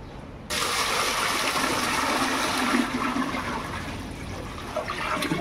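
Water gushes in a steady, forceful stream into a cooking pot after a brief quiet start, like a container being filled from a tap.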